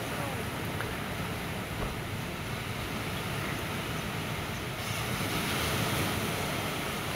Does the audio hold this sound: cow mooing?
no